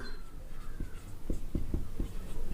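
Chalk or marker writing on a board during a maths lesson, a few short scratchy strokes tapping out in quick succession against a faint room background.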